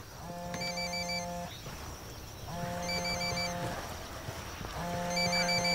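A phone rings in a game of Ghost Recon Wildlands: three long electronic ringtone bursts in an even rhythm, heard clearly over steady outdoor ambience.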